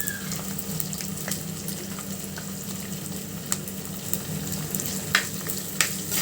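Ginger garlic paste fries in a pan, a continuous close sizzle with occasional sharp pops and spatters over a low steady hum.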